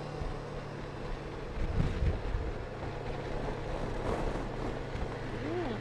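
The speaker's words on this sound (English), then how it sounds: "Gust right there, I heard it." Wind gusts buffeting a motorcycle on a California mountain road, a steady broadband roar that swells briefly into a stronger rush near the middle, with engine drone underneath.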